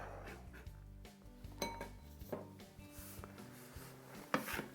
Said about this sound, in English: let me finish chopping this up